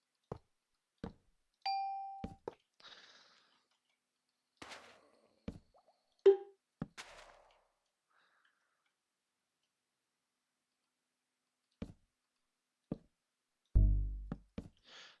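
Scattered electronic Minecraft game clicks, dings and plops from a redstone Wordle build, separated by silences, ending with a low buzzing thud.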